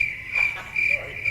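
Crickets chirp in a steady, fairly loud high trill that pulses in short repeated bursts, alone without talk.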